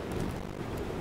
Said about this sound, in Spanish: Justo ahora viene la tormenta